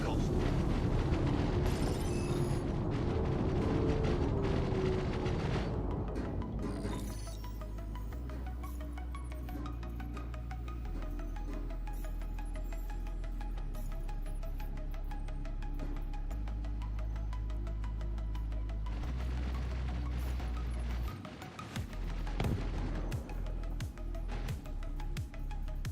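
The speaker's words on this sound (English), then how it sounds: "It knows I'm gonna shoot it with missiles." Missiles exploding in the space combat of the video game Star Citizen, a loud roaring blast followed by a long rumbling low-end tail, with a second burst near the end, heard alone without talk.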